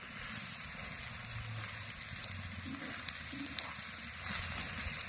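Ivy gourd frying in a pan with the lid off, a steady dense sizzle throughout with a few faint scraping stirs underneath.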